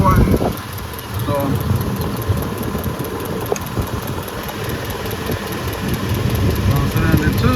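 The engine of a 2004 Ford F150 with a no-power fault runs at a steady idle, a continuous low rumble close by with occasional small clicks and a faint high whine.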